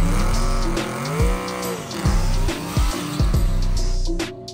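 Drag race cars running dry single-nozzle nitrous to spool their turbos roar loudly down a no-prep strip, engines revving up and down in repeated surges as they pass close, with no talking.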